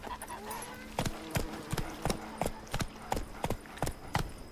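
Horse hooves clip-clop in a steady walking rhythm, about ten evenly spaced clear strikes close by over a faint ambient background, as Geralt's horse Roach trots along in The Witcher 3 video game.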